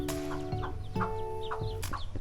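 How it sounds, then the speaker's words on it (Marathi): Chickens clucking around the houses of Ainachiwadi, a village on the Raigad–Thane border, a few short nasal clucks and squawks in quick bursts, fairly close, with no talking. "इकडे कोंबड्या दिसत आहेत आपल्याला बघा"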